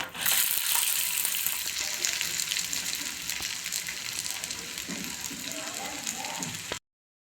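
A pounded mixture fries in oil on a hot dosa griddle, giving a loud, continuous sizzle with crackling that carries steadily until it stops abruptly.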